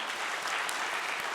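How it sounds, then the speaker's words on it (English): A brief, dense burst of audience applause for a young boy at a Brahmo Samaj conference session in Hyderabad, steady and fairly loud throughout. "can we all clap for this young boy, please?"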